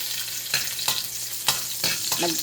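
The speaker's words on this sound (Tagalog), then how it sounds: "Mainit na ata guys ating mantika. Lagay na natin bawang at sibuyas." Garlic and onion sizzle loudly in hot cooking oil while being stirred, with bursts of frying crackle and scraping strokes in a close, continuous stretch with no talk.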